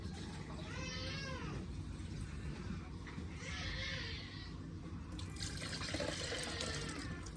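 Tap water runs steadily into a small jug in three bursts, a hollow filling sound that rises in pitch as the jug fills, with a brief pause between bursts.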